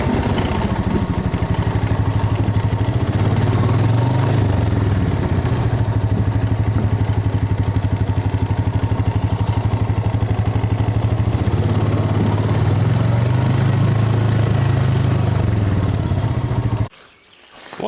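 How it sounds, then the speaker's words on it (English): A four-wheeler engine drives across a newly built bridge, running close and loud with a steady mid-pitched drone and slight rises and falls in revs, then cutting off abruptly near the end. "Here's a point of view of the four-wheeler going across."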